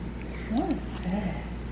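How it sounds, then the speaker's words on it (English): A cat gives two short, soft meows close by over a steady low background hum. "He's the best cat I've ever seen."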